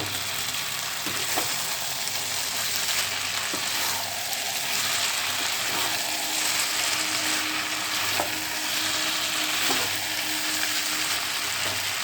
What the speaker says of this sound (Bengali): ভালো করে হাই ফ্লেমে একে নাড়াচাড়া করবো, মিক্স করে।